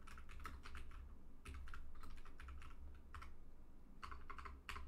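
Computer keyboard typing to enter login credentials on an old machine running Debian 13 with MATE, bursts of quick light key clicks with brief pauses, close and fairly quiet over a low background hum.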